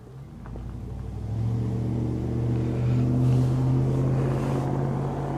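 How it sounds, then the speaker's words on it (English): A truck pulls up close behind someone in a snowy spot, its low engine rumble swelling and then holding steady, with no voices. "it was this truck that pulled up behind me"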